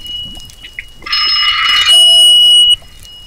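A phone rings with an incoming call from mother: a loud electronic ringtone of bright, steady tones lasts under two seconds, standing out against quiet surroundings.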